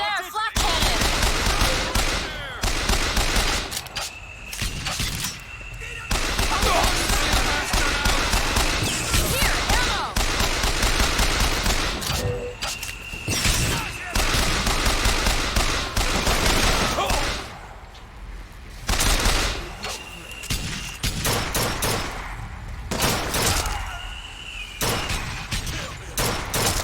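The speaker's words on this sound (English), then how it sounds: "Over there, flak cannon!" Rapid flak cannon fire from BioShock Infinite, loud bursts of automatic gunfire and explosions recurring in clusters, with brief quieter gaps between volleys.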